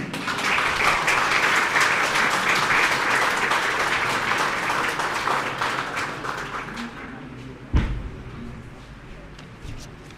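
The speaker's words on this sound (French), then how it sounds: "Un tonnerre d'applaudissements, mesdames et messieurs, pour Monsieur Pascal Timmy" Thunderous audience applause at an inauguration ceremony in Goodland, welcoming a guest onto the stage; dense, loud clapping that gradually thins and fades, with a sharp thump near the end.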